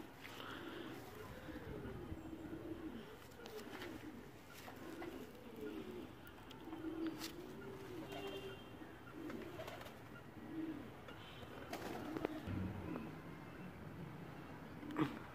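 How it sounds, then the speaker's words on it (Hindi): Flying pigeons coo in soft, repeated rolling calls at a steady rhythm, fairly close, with faint background noise. "बेहतरीन परवाजी कबूतर है ये।"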